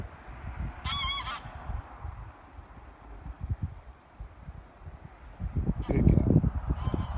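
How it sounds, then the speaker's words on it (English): Domestic geese honking in a short run of repeated calls early on, fairly clear over a quiet outdoor background, with a person talking and rustling nearby toward the end. "Got some geese."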